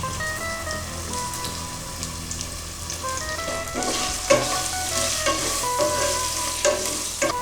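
Green chillies and curry leaves fry in oil with turmeric in a pan for mango chitranna, giving a steady bright sizzle with clattering stirring scrapes growing busier toward the end, close and alone with no talking.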